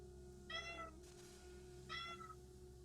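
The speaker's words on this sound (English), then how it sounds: "can't believe there's a cat stuck behind that door" Cat meowing behind a closed door: two short, clear meows about a second and a half apart over a steady low hum, moderately near.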